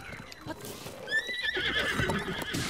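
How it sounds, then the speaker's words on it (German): Wild horse in the video game Zelda: Breath of the Wild gives a clear rising whinny that trails off, with clip-clop hoofbeats and game sounds around it. "Hier gibt's Wildpferde auch."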